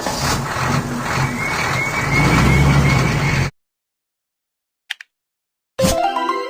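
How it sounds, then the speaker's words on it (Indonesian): A tow truck engine rumbles loud and continuous for about three and a half seconds, with a mid-range motor drone and a faint rising whine. Silence follows, then a short click and another burst of engine noise at the close. "Mobil derek."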